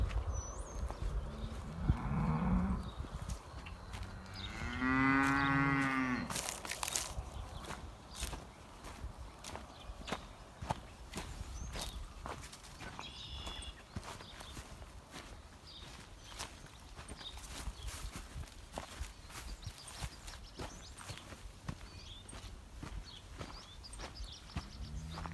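Dairy cows on a farm moo a couple of times, loud and close, then shuffle and clop steadily over the ground as the herd walks into a new pasture.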